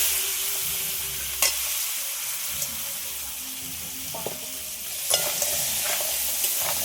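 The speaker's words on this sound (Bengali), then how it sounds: "এবার কাঁকড়াগুলো একটু হালকা করে ভেজে নেব।" Crabs fry lightly in hot oil seasoned with salt and turmeric, giving a steady close sizzle with occasional stirring clinks and scrapes.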